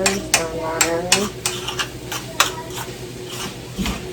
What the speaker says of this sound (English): Stirring that in.